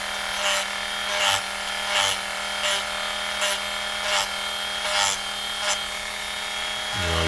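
An old Dremel rotary tool grinds the undercut on a Glock polymer frame in a steady, rhythmic series of short rasping strokes over a constant motor whine, close and loud, cutting off abruptly at the end.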